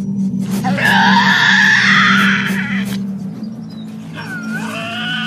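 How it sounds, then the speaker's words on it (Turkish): A Tasmanian devil gives harsh, rasping screeches in the wild in Tasmania, a long loud wail, then a shorter cry after a pause, over a steady low rumble. "Dişi bir Tazmanya canavarı kendi türüne ait son derece özel sese doğru yaklaşıyor."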